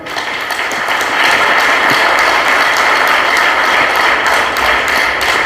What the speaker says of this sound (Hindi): हम चाहेंगे कि सब इस कार्य के लिए कृष्णायन गोरक्षाशाला के लिए एक जोरदार ताली बजाएं